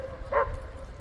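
A dog, playing outdoors on an autumn day near water, gives a couple of short, sharp barks as it chases after its owners, the first mid-clip and another right at the end, with no talking.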